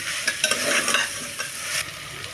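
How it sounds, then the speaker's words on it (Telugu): Carrot, potato and tomato for vegetable biryani cooking in a pan, with a steady loud sizzle and a few stirring scrapes over it, close and with no talk. "ఇప్పుడు వెజిటేబుల్స్ అన్నీ వేసేసుకోండి క్యారెట్ బంగాళదుంప టమాటా మొత్తం అన్నీ వేసేసుకోండి మగ్గనివ్వండి"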